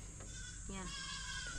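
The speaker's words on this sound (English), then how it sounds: "Goat just took off up there. How do we get the goat back?" A goat bleats at a farm in the Philippines, a short, wavering call that is moderately clear over steady outdoor background noise, with people talking around it.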